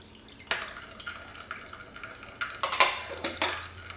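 A spoon stirs brown sugar, rice vinegar and soy sauce in a pot, producing irregular scraping clinks and taps against the metal, moderately close and fairly quiet.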